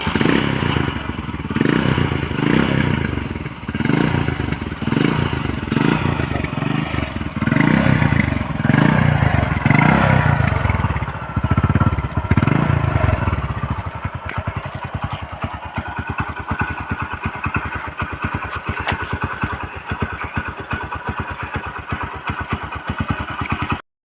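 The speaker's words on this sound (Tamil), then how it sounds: "நான் வண்டி உங்களுக்கு ஸ்டார்ட் பண்ணி உங்களுக்கு காமிச்சிடறேன்." Restored 1999 Hero Honda CD 100 motorcycle engine started and left running: loud, close engine with a pulsing, uneven chug in the first half, then settling into a steady rapid putter at idle.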